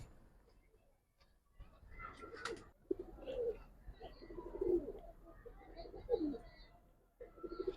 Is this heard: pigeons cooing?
yes